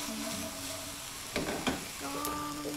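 Asparagus sizzles steadily in a frying pan on the stove, a soft continuous crackle with a few louder scraping stirs midway, while faint tonal background sound runs underneath.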